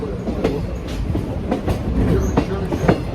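Steam locomotive 765 pulling an excursion train, its cars rolling steadily along the rails with a continuous loud rumble and recurring clickety-clack wheel beats over the joints, heard from on board.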